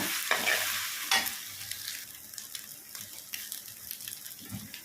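Three eggs are stirred and scrambled in a pan with a light sizzle, and the spatula scrapes and clatters against the metal in irregular bursts close by.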